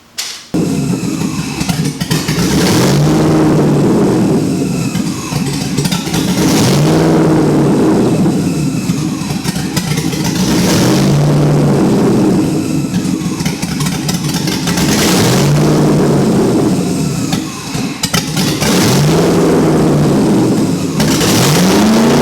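LS V8 swapped into a 2001 Lexus IS300 revving over and over, each loud rise in pitch falling back between pulls, in a close, continuous run with a steady cycling rhythm.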